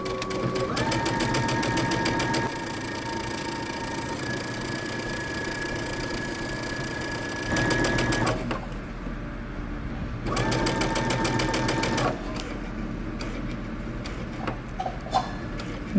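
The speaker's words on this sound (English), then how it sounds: "Now I'm going to stop and I'm going to pivot, and I'm going to sew until I get to this dot" Sewing machine stitching a shirt dress runs in a steady rapid whirring rhythm, close and fairly loud, pausing briefly for pivots before starting again.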